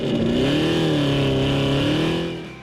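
A 1,000-horsepower supercharged 6.2-liter engine in a drift-built Ute revs with a loud, close, wavering roar and supercharger whine that fades slightly at the end.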